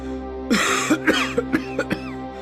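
A man coughs repeatedly in a series of short, harsh bursts, the first one heavy and throaty, followed by smaller coughs, close to the listener.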